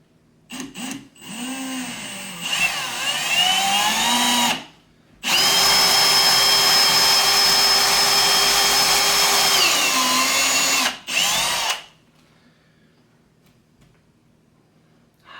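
A power drill bores a hole into a wooden wall stud in two loud, close bursts, first a short start with changing pitch, then a long steady whine that slows briefly, followed by quiet.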